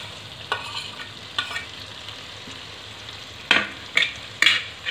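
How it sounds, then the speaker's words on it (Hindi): Fried paneer goes into a kadai of dhaba-style masala and is stirred gently, giving a steady low sizzle broken by several soft scraping stirs, close up, with no talking. "और अब इसमें डालूंगी मैं ये पनीर जो मैंने फ्राई कर रखा था, पनीर को हमें आराम से डालना है।"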